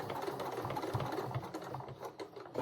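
A domestic sewing machine stitches dress fabric in a continuous close-up run of rapid, even needle clatter that holds steady throughout with only small dips in loudness.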